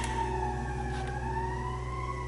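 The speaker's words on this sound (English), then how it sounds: "there seems to be an ambulance going by" An ambulance siren passes outside, its wail bending downward in pitch as it goes by, heard indoors at a moderate distance over a low steady hum.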